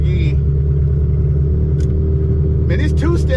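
A 1991 Honda Civic EF sedan with a manual gearbox holds a loud, steady engine drone while set up for a burnout, with a voice briefly cutting in near the end.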